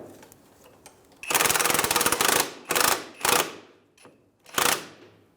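A 22mm socket ratchet snugs the rear strut bolts on a Honda Element, giving a loud, fast clicking run followed by several shorter bursts of ratcheting, close and separated by brief pauses.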